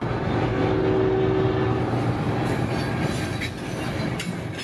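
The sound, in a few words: CSX local freight train with ES40 locomotive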